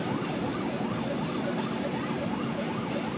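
An emergency vehicle siren wails in rising and falling sweeps on the road, fairly faint and steady beneath continuous car engine and road noise.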